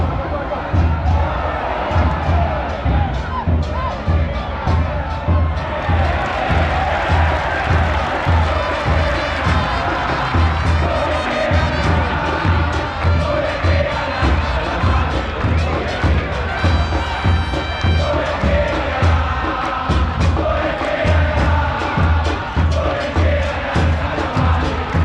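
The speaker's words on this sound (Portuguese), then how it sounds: "É a música cantada pela torcida, chamando o clube o tempo todo de Calamares ou de Tense, né?" Platense football supporters in an Argentine neighbourhood club's stadium sing a club chant together, a dense, continuous crowd roar with steady rhythmic pulses and occasional drum-like thumps throughout.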